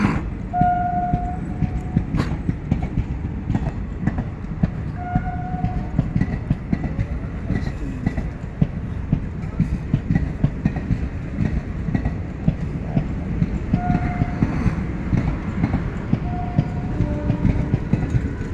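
A Tanakpur to Mathura special train rolls past steadily for the whole stretch, a continuous loud rumble of wheels and railcars with faint clatter and a few brief squeals or tones along the way.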